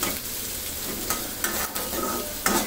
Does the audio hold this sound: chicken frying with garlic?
yes